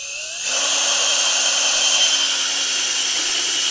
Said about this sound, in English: I'm going to put these screws in first.